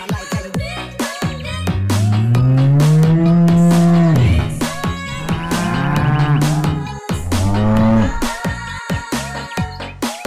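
A colorful toy cow gives loud, drawn-out electronic moos, three long lowing calls in a row, close and clear, with short clicking sounds between them.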